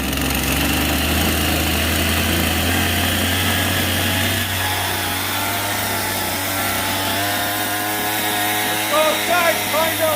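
A chainsaw idles steadily after starting, a loud close droning buzz with a constant low hum, while a person talks faintly over it.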